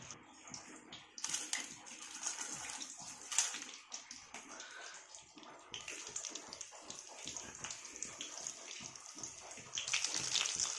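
Bay leaves sizzling in hot oil while sabzi is cooked in a village kitchen, a steady hissing crackle with bursts of spitting that rise and fall throughout, heard alone.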